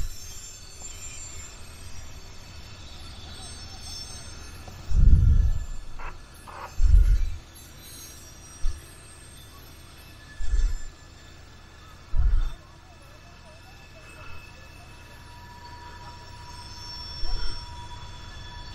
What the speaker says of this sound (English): we have a much better view of the train going around the curve